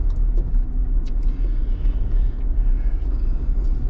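An off-road vehicle drives slowly along a rocky, tree-lined county park trail, its engine a steady, loud low rumble with occasional knocks and clunks from the rough ground.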